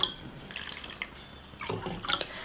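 About two and a half cups of water poured into a cooking pot for a semolina breakfast, a soft close trickle and splash with a brief stronger gush near the end, no talk.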